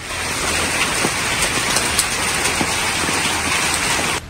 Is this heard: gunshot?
no